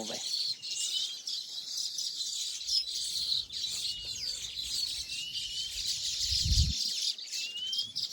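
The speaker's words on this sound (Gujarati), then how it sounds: "આ ચકલાનો અવાજ તમે સાંભળો કે એમ કહેવાય કેવો રૂડો અવાજ" Sparrows chirp continuously in a farm garden in a village, a busy high twittering chorus over faint low background rumble, with a voice briefly present.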